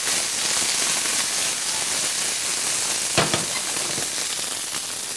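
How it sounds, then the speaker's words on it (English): Food sizzles steadily in a hot pan, a dense crackling hiss with a few louder pops partway through, close up and with no talking. "Here it sizzle nicely."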